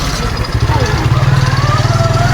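A motorcycle engine idles close by with a steady, rapid putter of low pulses that firms up after the first second.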